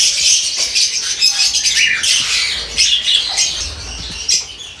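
A pale fallow pigeon handled by a breeder gives short squawking calls and bursts of wing flapping close by, in irregular bright flurries throughout.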